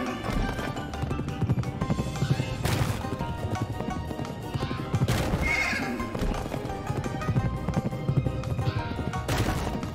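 A horse in the video game Pumpkin Jack: steady clip-clop of hooves throughout with whinnying calls cutting in, loud and close over a busy game soundtrack.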